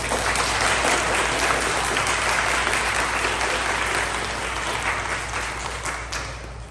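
Sustained audience applause at a fifth-grade end-of-year awards ceremony, dense and steady throughout, gradually tapering slightly toward the end.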